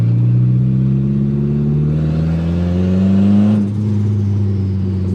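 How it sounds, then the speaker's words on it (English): A Mitsubishi Evo engine revving with the turbo vented straight out through a dump pipe, a steady loud mid-pitched drone rising in pitch then dipping, with a brief turbo flutter near the end. "Definitely making boost because it's fluttering."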